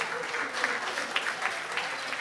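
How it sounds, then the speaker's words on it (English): Applause from a comedy club audience at the Miami Improv, a steady dense patter of many hands clapping throughout at moderate level, with no voice over it. "Clap it up for 40-year-old people"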